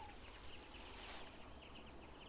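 A continuous high-pitched insect trill from grasshoppers in Matsalu National Park, pulsing slightly, with a softer meadow background and no voices.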